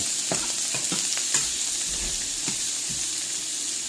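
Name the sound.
onion frying in sausage juices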